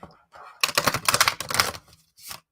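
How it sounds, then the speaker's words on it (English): A small pile of playing cards is riffle shuffled by hand, giving a close, crisp flurry of rapid fluttering clicks in a couple of bursts, with short pauses between. "I will then riffle shuffle this because it's small enough for me to riffle shuffle and bridge"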